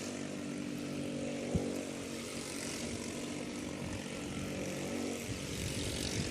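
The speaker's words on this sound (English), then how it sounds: "You can hear the cars cranked up for the warm-up in the background here." Quarter midget race car engines run together during a warm-up session, a steady, dense buzzing drone held at a fairly constant level throughout, with no talk over it.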